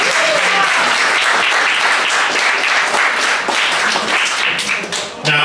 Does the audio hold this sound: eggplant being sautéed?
no